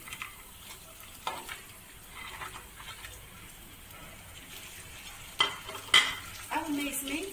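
Cinnamon, cardamom, cloves, green chillies and cashews roast in a wok, a quiet low hiss with occasional soft stirring scrapes, then a few sharper clinks and sizzles near the end, no talking.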